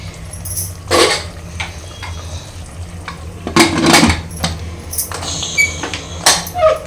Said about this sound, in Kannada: ಇವಾಗ ಕುಕ್ಕರ್ ಕ್ಲೋಸ್ ಮಾಡಿ ಮೂರು ಬಿಸಿಲು ತೊಗೊತೀನಿ